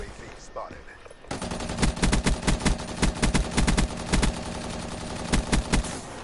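Rapid bursts of toy Nerf blaster fire in a video game, a quiet stretch giving way to a loud, sustained volley of sharp repeated shots with brief pauses, close and dominant.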